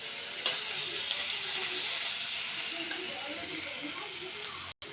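Spices fry in a pan for a pumpkin dish, giving a soft, continuous sizzle and hiss with a few faint stirring scrapes, quiet and close, without clear talk.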